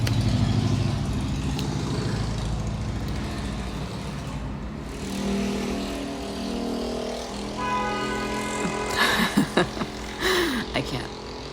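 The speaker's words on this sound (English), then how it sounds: "you still hear traffic and honking horns and cars" Street traffic outside with cars passing and engines idling, a steady mid-distance rumble that fades and returns, with occasional sharper sounds near the end and a person talking over it.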